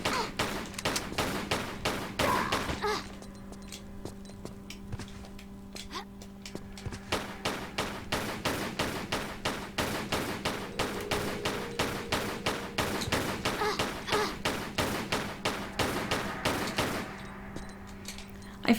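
Rapid pistol fire in a Tomb Raider level, a steady stream of sharp, evenly spaced shots that runs almost continuously for many seconds at moderate loudness, with no speech.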